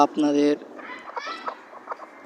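Native country chickens cluck in short, soft bursts close by, with a louder harmonic call near the start and more scattered clucks through the rest, partly under a person talking.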